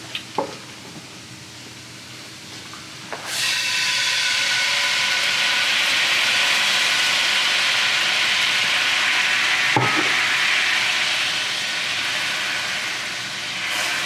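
Brandy sizzling after being poured into a hot pan of steak au poivre drippings, a loud, steady frying hiss that bursts in abruptly and holds, with a brief clatter partway through and no voices.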